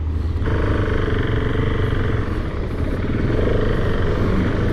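A 2023 KTM 690 SMC R supermoto motorcycle's single engine drones steadily while riding, a loud, continuous close-up rumble with wind noise and no speech.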